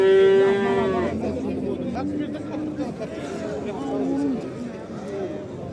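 Simmental cattle at a livestock market moo loudly and close, with a long opening low and several shorter calls, amid steady crowd chatter and people talking nearby.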